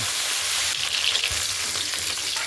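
A katla fish head fries in mustard oil, giving a loud, continuous, close-up crackling sizzle with small bubbling spits throughout and no talking.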